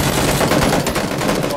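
Rapid gunfire in the video game PlayerUnknown's Battlegrounds crackles in a dense, continuous burst, loud and close, filling the whole moment.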